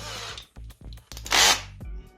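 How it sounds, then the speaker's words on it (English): An electric drill fitted with a 3mm bit bores holes for model train wiring in short on-off bursts, ending in one louder, sustained whine, close up and alone. "I use 3mm bit to drill holes for wires."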